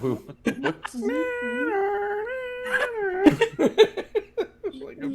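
Voices imitate wolf howls, long rising and falling wails layered together, followed by chatter and laughter nearby.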